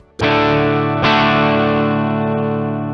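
An electric guitar with distortion runs through a Mooer GE200 multi-effects unit: two strummed chords ring out loud and sustained, the second struck about a second after the first, each decaying slowly with no talk.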